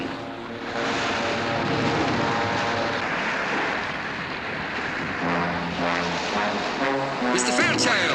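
A propeller airplane engine drones loud and steady throughout in a 1964 horror film scene, its tonal hum shifting slightly as it runs, with a brief high whine near the end.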